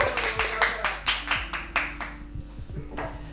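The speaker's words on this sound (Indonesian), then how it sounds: "Tepuk tangan dulu, tepuk tangan." A small studio audience clapping, about nine crisp, evenly spaced claps close by, thinning out toward the end while voices talk faintly underneath.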